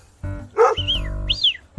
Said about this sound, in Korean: 스펙이는 왈왈왈 하잖아